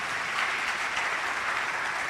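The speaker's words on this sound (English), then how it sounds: "Let's clap for her once again." A crowd at a youth empowerment summit claps for a guest, a short, thick and even burst of applause from a large audience with no voices on top.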